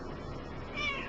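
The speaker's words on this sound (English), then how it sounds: "The cat came out finally." A house cat meows once faintly, a short tonal call rising over a steady background hiss.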